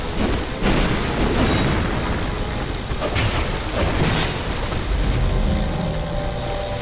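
Crackling, booming lightning spell blasts in Dark Souls 2 during the Throne Watcher and Throne Defender boss fight, a dense continuous roar with sharper bursts around the middle, loud and close with no talking.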